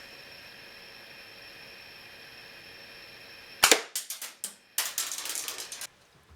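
A Daisy 499B BB gun fires at a 7-yard target: after a few seconds of quiet hiss, a sharp crack lands, followed by a quick run of snappy clicks and pops, close and loud.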